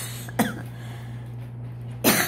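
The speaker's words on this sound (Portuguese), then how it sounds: "Que tosse é essa?" Two short, close coughs from a person indoors, about a second and a half apart, the second louder and rougher, against a low steady hum.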